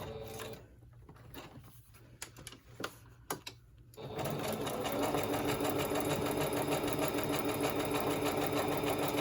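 A few quiet clicks and handling sounds come first, then a sewing machine starts stitching a fabric pouch, running as a loud, steady, rapid mechanical whir to the end while it back stitches.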